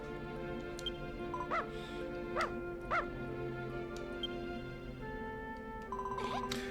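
Cartoon dog barks from the video game Dragon Quest Builders 2: three short, evenly spaced yips over steady game music, followed by a brief whimpering sound near the end.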